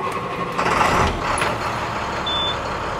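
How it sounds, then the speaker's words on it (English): A school bus engine cranks and catches, settling into a steady diesel idle hum with a brief high beep partway through, heard alone and fairly loud. "I will now start the bus."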